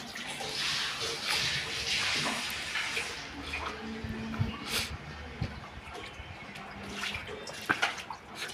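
Water running into a container at home, a steady broadband rush of filling water with brief drips and splashes, fairly close, mostly alone with faint background voices.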